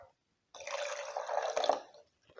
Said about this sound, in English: And then I'm going to pour the water into a measuring cup right here.